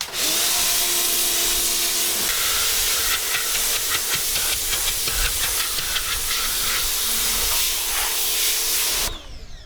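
Electric pressure washer spraying water onto a car, a loud steady hiss with a motor hum underneath, running continuously and close by, then cut off abruptly at the end.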